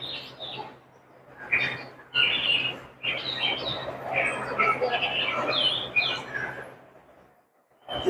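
Small birds chirp and tweet in short bursts outdoors on an island among many trees, heard close and mixed with people talking.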